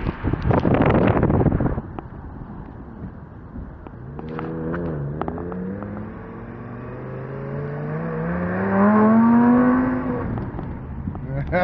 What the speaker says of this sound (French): Belle petite Lamborghini convertible.